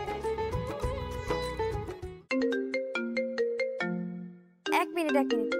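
A melodic phone ringtone plays loudly in bursts of bright chiming notes, pausing briefly twice and restarting, with no voices over it.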